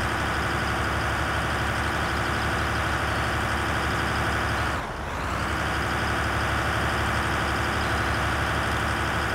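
A tractor engine in the Farming Simulator 2013 game drones steadily and loudly, a constant dense rumble throughout with a brief dip near the middle, no talk over it.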